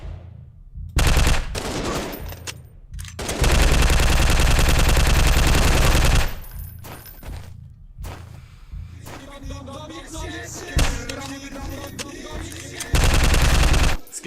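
Gunfire from a first-person shooter video game comes in loud bursts of rapid machine-gun fire, separated by short pauses and quieter stretches of scattered shots, with no voices over it.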